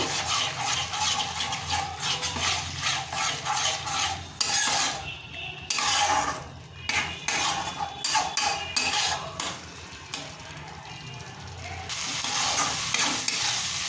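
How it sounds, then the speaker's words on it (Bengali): Spice paste with beaten yoghurt for rui fish kaliya being stirred as it fries in a pan, with repeated scraping and clinking of a utensil against the metal over a low sizzle, breaking off briefly before resuming. "ভালো করে আরও নেড়ে নেব।"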